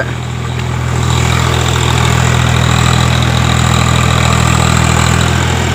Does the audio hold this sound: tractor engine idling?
yes